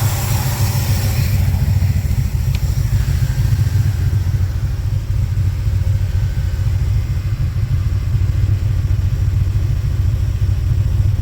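A car engine idles steadily up close, a constant low rumble with no change in pace.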